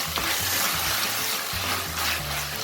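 Chilli paneer with tomato chilli sauce sizzles in a pan as it is stirred, a close, continuous hiss broken by scraping strokes, with no voices.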